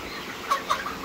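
Broiler chickens about 50 days old cluck twice in quick, short calls over a steady background hum in a poultry shed, with no talking.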